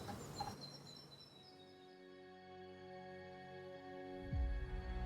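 Birdsong rises out of a woodland backdrop, with a few high calls early on and long sustained tones after them. A low gobbling fowl call swells near the end, and no one speaks.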